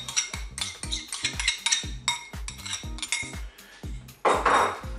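Yogurt mustard sauce being spooned and stirred into a salad in a bowl: a run of close, irregular clinks and scrapes of a utensil against the bowl, closing with a louder, rougher burst of mixing.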